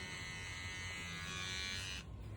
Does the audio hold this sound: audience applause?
no